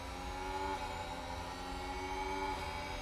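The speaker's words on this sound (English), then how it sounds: "the echo of these cars coming through this tunnel is insane" Formula One cars from the racing game F1 Manager 22 roar and echo through a tunnel, a steady loud engine drone with tonal harmonics that dips and rises slightly, with no voices over it.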